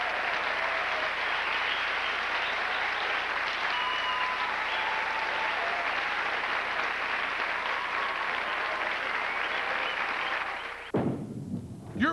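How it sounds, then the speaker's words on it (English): TV studio audience applause on a 1994 Pepsi's A-List broadcast, a dense, steady roar of many hands clapping that sustains for about ten seconds, then cuts off abruptly into a brief transition. "That's right, clap."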